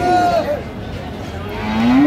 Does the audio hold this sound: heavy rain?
no